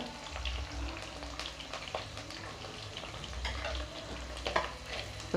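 Onions with curry leaves sizzle and crackle in hot oil while a spoon stirs and scrapes the pan now and then, close up.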